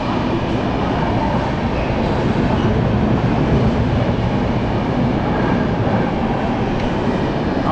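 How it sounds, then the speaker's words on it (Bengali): The Kanchankanya Express pulls out, a constant loud rumble of rolling rail cars with faint clatter from the wheels, heard close by with no speech over it. "কাঞ্চনকন্যা এক্সপ্রেস বেরিয়ে যাচ্ছে।"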